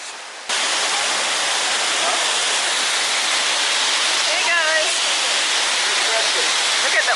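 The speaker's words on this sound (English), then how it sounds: "We are on our way down to the Annandale waterfall." Loud, steady rush of the Annandale waterfall in Grenada fills the scene from start to end, with faint voices and a brief whistle-like chirp in the background.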